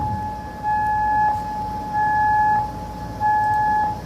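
Civil defense air raid sirens sound in Kuwait, a steady pulsing tone that swells on and off in roughly one-second bursts, loud and clear against a low background rumble.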